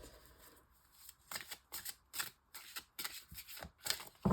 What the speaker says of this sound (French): je vais prendre aussi la carte, une dernière carte de l'oracle de l'énergie